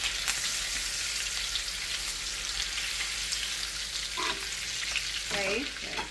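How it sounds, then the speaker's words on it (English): Potatoes go into melted butter in a stovetop pan and fry with a steady, loud broadband sizzle throughout, with a few brief scraping or clinking touches near the end. "I'm going to add half of my batter to my pan so it can melt"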